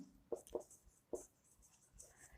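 Pen writing on paper during a maths lesson, heard as faint, close scratches and taps in short irregular bursts over low room noise, with no clear talk.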